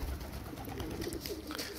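Domestic pigeons coo softly in a loft, low murmuring calls close by against a quiet background.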